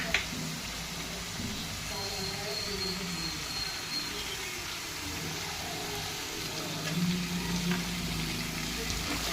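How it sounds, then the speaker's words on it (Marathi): Brinjal and potato with green chilli sauté in a pan, giving a steady soft sizzle and frying hiss throughout at moderate closeness. "हे असं छान मस्त परतवून घ्यायचं"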